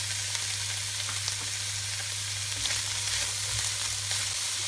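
Chopped onion fries in a pan alongside chicken for a chicken kachori filling, a steady, even sizzle with light scattered crackles and a low hum beneath, close and without speech.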